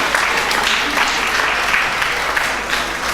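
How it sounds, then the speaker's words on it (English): Enthusiastic audience applause at a school reading competition final, a full, close burst of many people clapping together that stays strong throughout, with a few voices mixed into the din. "Give him a round of applause."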